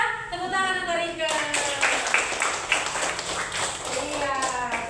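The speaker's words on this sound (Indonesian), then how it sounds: "Tepuk tangan untuk Rike." Classroom of primary students clapping for a classmate, a burst of rapid hand claps from about a second in, mixed with children's voices and an adult speaking.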